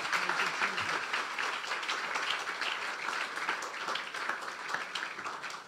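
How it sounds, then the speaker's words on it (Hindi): Loud, steady applause from a church congregation for a group of children during a sermon, a dense continuous wash of clapping that holds at full strength throughout. "जोरदार तालियां बजा दें इन बच्चों के लिए भी।"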